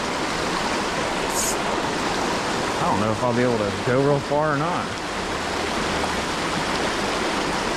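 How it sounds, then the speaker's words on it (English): Steady broadband rush of a waterfall on an Ohio creek, close and continuous throughout, with someone talking briefly over it midway. "There's a daggone waterfall over there."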